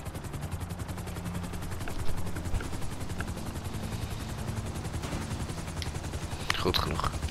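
Helicopter in a video game, a steady rapid rotor chop running throughout, fairly loud and close, with someone talking over it and a few sharp bursts near the end.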